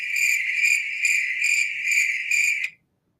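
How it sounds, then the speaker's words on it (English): Crickets chirp in steady pulsing trills, close and clear against silence, then stop abruptly near the end. "My crickets sound there."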